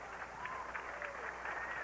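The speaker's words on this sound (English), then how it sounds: "Nice appreciative round of applause here" Appreciative applause from the crowd at a 1987 professional bowling event in Austin, a steady wash of clapping sustained across the whole moment, with a few faint whistles or calls rising above it.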